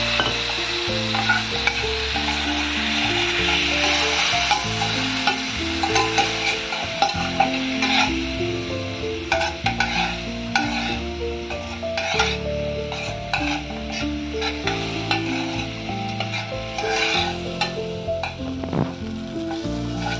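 Turmeric with a splash of water fries in a pan while being stirred, giving a steady close sizzle throughout with scraping and light clinks of the spoon against the metal.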